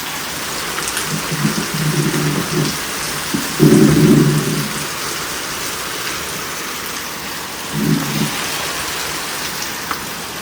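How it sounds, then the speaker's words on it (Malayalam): Steady evening rain falls outdoors with low thunder rumbling in several separate bursts, the downpour constant and fairly loud from start to finish. "മഴ അങ്ങനെ തുടർന്നുകൊണ്ടേയിരിക്കുകയാണ്"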